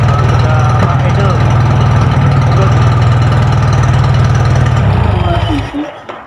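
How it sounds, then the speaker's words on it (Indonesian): Engine idling loud and close during a machine maintenance practical, a steady low rumbling throb that holds evenly, then drops off abruptly as it is shut down; a voice speaks briefly over it. "Sudah nyala ya. Sudah idle."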